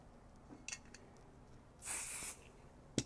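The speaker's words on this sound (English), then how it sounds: "I'm going to spray the whole thing down together" A single short hiss from a spray can onto fabric, under half a second long. Faint clicks and handling noises come before and after it.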